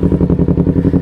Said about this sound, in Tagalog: ganyan na ang tunog ng ating motor